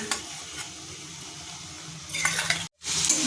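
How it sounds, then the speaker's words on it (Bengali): Marinated chicken tipped into fried onions in a pan: a steady background sizzle swells into a louder, crackling burst near the end, broken by a brief gap, with a few light utensil clinks and no voices. "এবার আমি দিয়ে দেবো ম্যারিনেট করা চিকেন"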